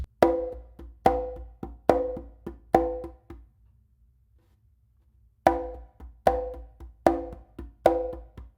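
Conga slap and ghost note triplet figure played twice through, each pass a run of crisp ringing slaps with soft ghost taps between, separated by a short silence; close-miked drum alone without speech.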